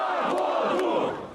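A large crowd of Navalny supporters protesting in Russia in sub-zero cold, a dense roar of massed voices shouting and chanting together, loud and close, fading slightly at the end.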